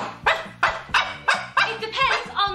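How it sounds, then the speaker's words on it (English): A dog barking, about six sharp, loud barks close by in an even, rapid rhythm, each bark clipped and punchy, with no talking underneath. "What noise does a dog make, Jessie?"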